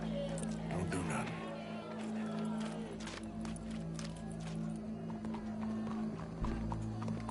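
Horse hooves clip-clop steadily through Red Dead Redemption 2 gameplay, with a faint whinny, all under a sustained low musical drone and voices talking throughout.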